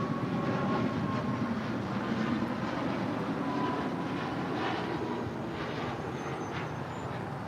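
An Air Canada Boeing 737 MAX 8 departs LAX, its engines making a steady, fairly distant roar and rumble that holds throughout, with no talking.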